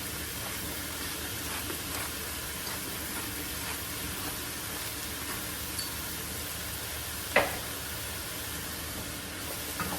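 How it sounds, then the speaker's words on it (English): Mushrooms and artichokes sauté in a pan, giving a steady, close hiss and sizzle throughout with one short sharp clink partway through. "I'm going to mix these guys in and saute them up a little bit"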